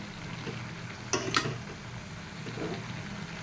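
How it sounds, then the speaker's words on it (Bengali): Cooked greens are stirred into curry gravy in a pan, a low bubbling simmer under a brief clatter of spoon against the pot in the middle. "এখন ভালো মতো শাকটা ঝোলের সাথে"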